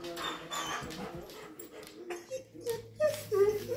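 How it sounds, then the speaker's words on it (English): A small dog growls and whimpers softly at close range in short uneven bursts, with a few faint yips among quiet background noise. "little growl"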